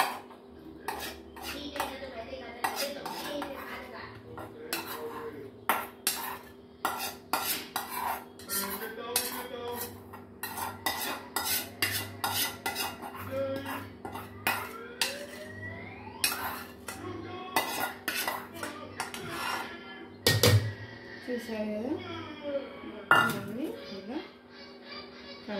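Fried onions get mixed into batter in a bowl, giving a dense run of quick scraping and clinking spoon-on-bowl strokes close up, while someone talks over parts of it.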